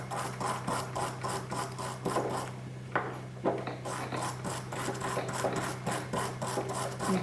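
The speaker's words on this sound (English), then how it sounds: "you want to take your brush, scrub in between the lugs." A brush scrubs back and forth between the locking lugs of an AR-15 rifle bolt during cleaning, a close, steady run of rapid bristle strokes with one short pause midway.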